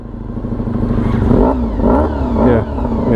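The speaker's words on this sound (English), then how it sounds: "Give it some revs." Motorcycle engine revving, likely a Kawasaki Z1000SX, Honda VFR400 NC30 or Crossrunner 800, with several rising and falling throttle blips over a steady close, loud running note.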